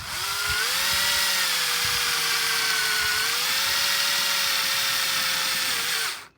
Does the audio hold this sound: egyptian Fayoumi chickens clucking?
no